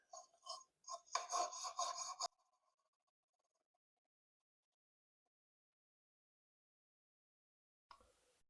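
Wire brush scrubbing the points of a rare 1954 Lawn Boy RPM lawnmower engine, with several short, close raspy strokes in quick bursts, then silence and one brief scrape at the end.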